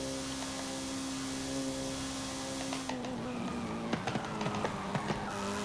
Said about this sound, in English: Oh, skidding, no good.